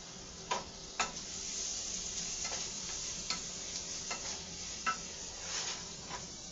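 Vegetables cook in a pot on a stove with a soft, continuous sizzle, broken by sharp clinks from stirring at irregular intervals, close and moderately quiet with no voices.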